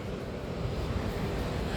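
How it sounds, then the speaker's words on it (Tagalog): Wind blows outdoors on a walk through Singapore's Raffles Place toward Clarke Quay, making a constant low rumbling buffet against the microphone that stays steady and fairly loud with no talking. "mahangin siya."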